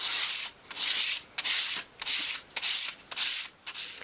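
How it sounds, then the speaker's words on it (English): Short beveled lengths of dollhouse skirting wood rubbed by hand along 240-grit sandpaper at a desk, making rhythmic rasping strokes in close, even bursts with short pauses between. "I'm just going to angle them on my desk and go along with a piece of 240 grade sandpaper"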